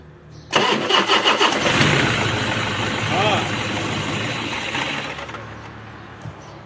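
A Toyota Hilux Vigo pickup truck engine cranks with a quick rhythmic chug, catches, and settles into a steady idle close by, a voice talking over it.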